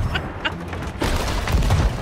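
Ship cannons fire a broadside in the pirate game Sea of Thieves, deep rumbling booms that swell into a loud, sustained roar partway through, with no voices over it.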